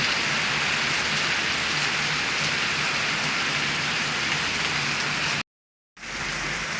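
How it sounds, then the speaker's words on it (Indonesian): Steady heavy rain pours down outdoors, a loud, dense, continuous hiss broken by one short silent gap before resuming. "Hujan lagi, guys."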